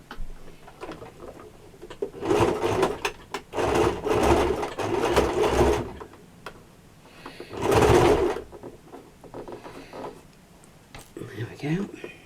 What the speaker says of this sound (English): Bring the machine back. And now I'm just going to stitch down the sides.